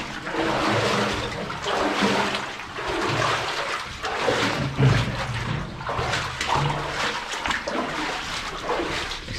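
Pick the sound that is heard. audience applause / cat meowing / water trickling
water trickling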